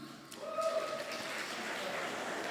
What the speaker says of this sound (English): So much for holding applause.